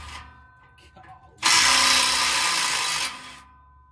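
Power tool loosening parts on a stock 2nd gen Cummins engine: one loud, close burst of whirring and rattling lasting about a second and a half, with quieter workshop sounds before and after.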